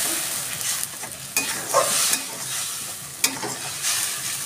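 Tomato paste goes into a pan of fried onions and sizzles loudly, with stirring scrapes and clunks of a spoon against the pan.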